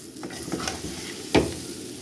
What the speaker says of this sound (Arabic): انا كده شوحت الرز كتير اهو عشان يبقى مفلفل